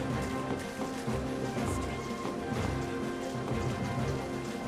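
Rain falls steadily in Final Fantasy XIII-2, a soft, even patter that stays constant and fairly quiet throughout, with no voices.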